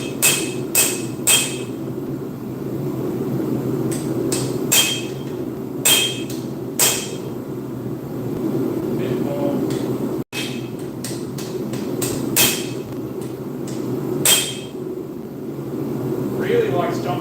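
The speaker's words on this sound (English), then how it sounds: "So I just need, a bit more of a hammer down." A blacksmith's hammer strikes hot steel in a forge, sharp ringing blows in quick clusters repeated through the clip against a steady fan-like hum, with someone speaking between strikes.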